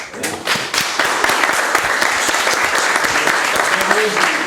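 Conference audience in Spain applauds steadily with dense, close clapping that holds at an even level throughout, with a few louder claps standing out.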